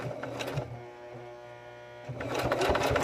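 A sewing machine stitches through thick quilt material, its motor whirring in two bursts with a strained, humming slowdown between them as the needle pushes through the heavy layers.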